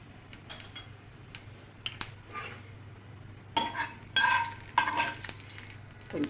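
Cumin and onion hit hot oil with a faint crackling sizzle, then sharper bursts of frying and spattering build toward the end, with scattered light ticks and clinks nearby; no one speaks.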